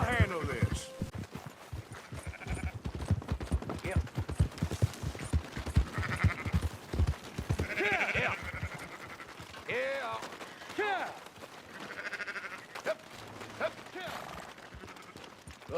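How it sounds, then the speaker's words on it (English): Sheep bleating in a Red Dead Redemption game scene, repeated wavering cries near and far amid a flock, with horse hooves clopping, distant gunfire and characters talking over them. "Fine sheep."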